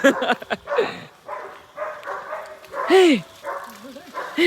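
Someone talks throughout while a caged dog's bark or yelp breaks in now and then, partly buried under the voice.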